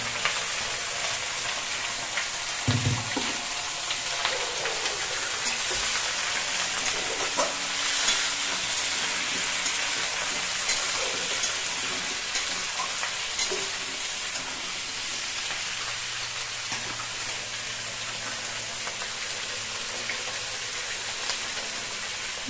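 Nigella seeds frying in hot oil for a shrimp and raw pumpkin curry give a steady, close sizzle with a brief louder crackle early on, continuing evenly without any talk.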